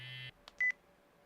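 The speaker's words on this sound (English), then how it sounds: "A phone rang." Short electronic phone alert in a visual novel video game: a sustained synthetic tone, then a brief blip and a sharp high beep, clean and close with silence between.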